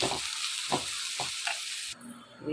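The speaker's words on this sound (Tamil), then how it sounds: "பச்சை மிளகாவும் வெங்காயமும் போட்டாச்சு இது வதக்கலாம் இது நல்லா ப்ரௌனாக வதங்கட்டும்" Green chillies and onion sautéing in a hot pan for vada curry give off a loud, continuous sizzle, broken by a few soft stirring scrapes before the hiss drops back.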